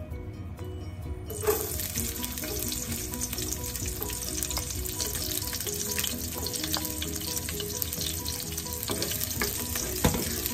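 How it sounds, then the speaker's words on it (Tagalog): Garlic drops into hot oil for adobong tulingan and bursts into a loud, steady sizzle that carries on close, with occasional stirring clinks. "Lagay ko na ang bawang"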